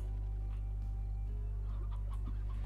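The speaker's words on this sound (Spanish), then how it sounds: "Escucho, vale, escucho allí un pollito." Chicken clucking in the video game Slime Rancher, a few soft short clucks over a loud steady low electrical hum that dominates the sound.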